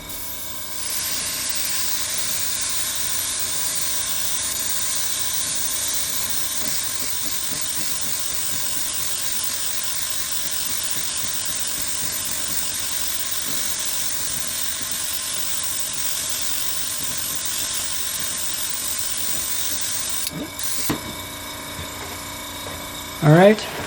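VMS No Peel primer sprayed from an aerosol can in a steady hissing stream that lasts about twenty seconds, followed by a couple of short clattering knocks.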